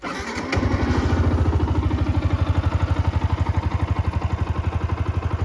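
A 2018 Yamaha YZF-R125 125cc sports motorcycle engine cranks briefly, then starts and settles into a steady, fast-ticking idle close by through its stock exhaust, with no voices.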